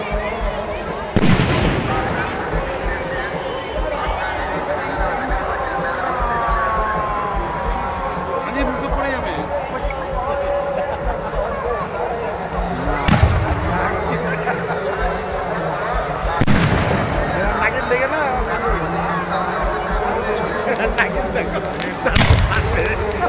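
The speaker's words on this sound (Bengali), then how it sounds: "আতশবাজি প্রদর্শন।" Eco-friendly green fireworks at a fair's closing ceremony: sharp booming bursts go off every few seconds over a continuous crackling, rumbling background, with someone speaking over a loudspeaker and a crowd murmuring throughout.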